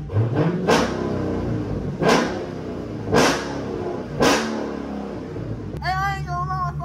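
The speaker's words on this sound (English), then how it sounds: "A little warm start and a few revs." A Dodge Charger SRT 392 engine idles warm with a low rumble and is revved several times in regular bursts, then settles back to a steady idle with a whining tone.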